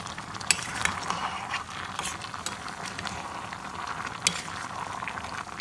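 A pot of bamboo shoots with black mushrooms boils at close range, giving a continuous bubbling crackle with irregular sharper pops and clicks.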